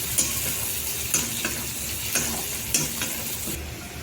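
Onion frying in a pan until golden, a soft continuous sizzle broken by several sharp scraping stirs at a regular pace, close and fairly quiet.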